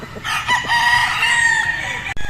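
A straight-comb gamefowl rooster at a farm crows loudly and close, one sustained cock-a-doodle-doo lasting about two seconds.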